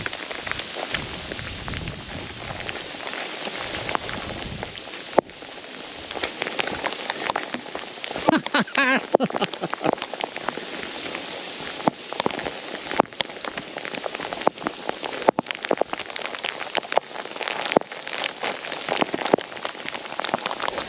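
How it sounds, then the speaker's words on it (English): Rain falls steadily during a short scenic walk at Lily Tarn near Ambleside in the Lake District, a continuous close patter of drops striking surfaces with sharper irregular taps throughout. "Stop raining."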